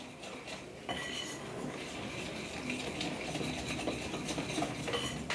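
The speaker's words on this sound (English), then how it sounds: "Scrape the bowl down as you go." Spatula scraping and knocking around a mixing bowl of gluten-free chocolate whoopie pie batter, continuous close scrapes and clinks with no talking.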